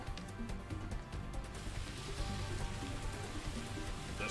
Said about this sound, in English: It's pouring rain in the Colosseum.